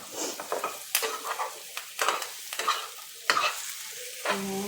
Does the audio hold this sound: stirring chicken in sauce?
yes